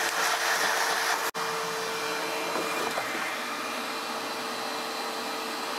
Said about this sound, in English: I think we get that vacuum in here.